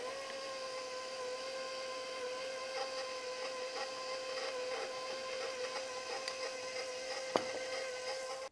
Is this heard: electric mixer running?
yes